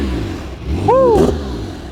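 Porsche 987 with a rebuilt 4.1L turbo engine gives a single short, deep blip of revs, close by, rising and falling over about a second under a steady idle rumble.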